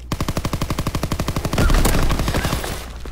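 A long, even burst of rapid automatic gunfire from a video game firefight, loud and close, ending in a heavier blast that rumbles and fades.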